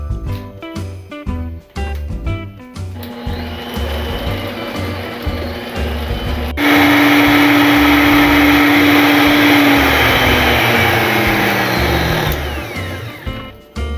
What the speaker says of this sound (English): we're just gonna stick to the mixer